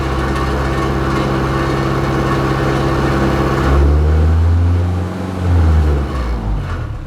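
A Honda Civic's small engine idles steadily up close, its low rumble swelling briefly twice as the throttle is nudged, with no talking.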